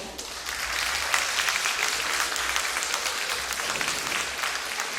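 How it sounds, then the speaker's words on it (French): Sustained audience applause fills a stage theatre for a show's Eiffel Tower set, a dense and even wash of many hands clapping at a steady level. "Et notre tour Eiffel, que je crois qu'on peut déjà applaudir maintenant."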